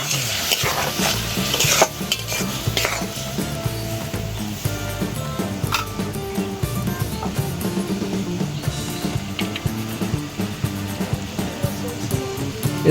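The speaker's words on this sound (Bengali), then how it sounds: "এখানে পেস্ট করা চিংড়ি মাছটা আমি এটা দিয়ে দেব। ভালোভাবে মশলার সাথে এটা ভালোভাবে আমি কষবো।" Prawn paste stirred and fried with spices in a pan for Bengali prawn dal, a loud steady sizzle with spoon scraping and clinks against the pan throughout, no speech.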